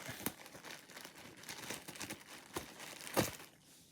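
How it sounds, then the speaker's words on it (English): Bubble wrap being cut and handled while unpacking a Toshiba SD-4100 DVD player, with close crinkling and crumpling plastic, a few sharper crackles and snips standing out, no talking. "You go to cut the bubble wrap."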